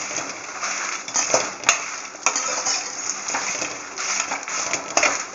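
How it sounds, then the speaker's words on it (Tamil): Dried red chillies roasting in oil in a pan for sambar powder, giving a steady soft sizzle with occasional light scraping and stirring clinks, close and continuous. "லேசாக அப்படியே வறுத்துக்கிட்டே இருங்க. ஒரு 5 மினிட்ஸ் வறுக்கணுங்க."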